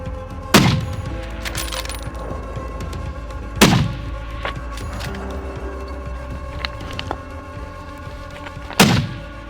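Rifle shots during an aoudad sheep hunt in Texas: three sharp, loud reports spaced several seconds apart, each followed by a rolling echo across open country, with faint background hiss between them.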